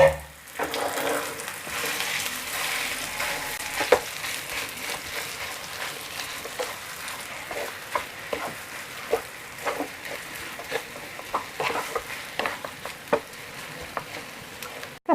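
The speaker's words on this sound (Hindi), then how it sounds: "इसमें हम ये आलू डाल करके फ्राई करेंगे।" Potatoes fry in a pan for a semolina-potato sandwich, a soft continuous sizzle broken by repeated sharp knocks and scrapes of stirring, close and with no talk.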